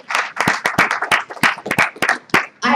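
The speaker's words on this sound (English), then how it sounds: "only the people who are getting that now are clapping" A small audience claps in an uneven burst of sharp, loud hand claps close by, lasting a few seconds with no talk over it.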